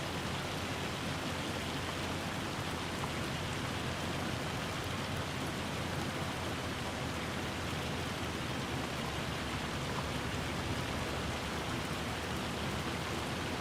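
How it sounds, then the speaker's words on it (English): Steady, dense rain pours down in a truck driving video game, a loud continuous hiss with no gaps and no voices over it. "that rain is ever so loud"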